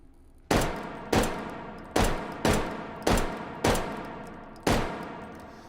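Seven sharp pistol shots from an M1911 Tactical fitted with a red dot sight, fired in the VR shooting game H3VR, come in uneven succession, each loud crack trailing off in a short echo.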